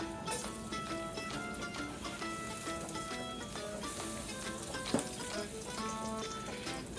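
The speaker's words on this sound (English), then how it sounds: "So to this, I'm going to add our sliced garlic." Sliced garlic frying in oil in a pan for spaghetti aglio e olio: a steady, close sizzle with dense crackle and a single sharp clink midway.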